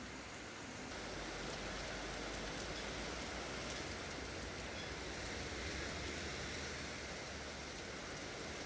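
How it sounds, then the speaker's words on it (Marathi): Rain falls steadily in Thane during a heavy downpour, a dense even hiss of drops on surfaces that holds constant throughout without any voices. "ठाण्यामध्ये रात्रभर पाऊस सुरू होता आणि आज दिवसभर देखील पाऊस सुरू राहणार आहे"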